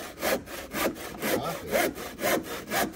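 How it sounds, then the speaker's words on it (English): A rusty hand saw cuts through wood at an angle, about seven steady rasping strokes in an even back-and-forth rhythm, loud and close with no talking. "Cutting through at an angle. This is a rusty saw, by the way,"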